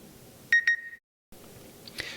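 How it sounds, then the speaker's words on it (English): A mobile phone held up to a microphone sounds a new-email alert: two short bright electronic chimes close together, followed by a moment of silence and faint room noise. "So that was the alert."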